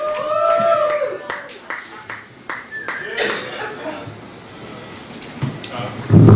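Audience clapping and chuckling at a comedy night in a Richmond, Virginia cafe, scattered claps and laughs through a murmuring room, swelling near the end.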